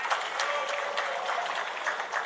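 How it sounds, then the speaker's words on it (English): Audience applause at a Nitte engineers' global reunion gathering at Chakolas Pavilion in Kochi: a steady, dense wash of many hands clapping together, fairly loud and continuous, with no voices standing out. "A big round of applause for them,"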